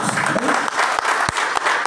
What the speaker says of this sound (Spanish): y para animarnos damos un aplauso a los todos